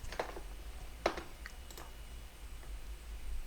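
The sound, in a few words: computer keyboard keys being pressed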